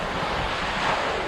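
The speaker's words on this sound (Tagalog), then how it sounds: "ang lawak ng beach na to" Steady wash of surf rolling onto a wide, clean beach at San Fernando, El Nido, Palawan, loud and continuous with wind buffeting the microphone and no voices.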